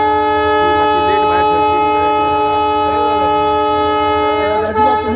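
The special Valankanni feast train departs from Vasco with a loud, sustained horn blast close by. The harmonic tone holds steady for several seconds, with faint voices underneath.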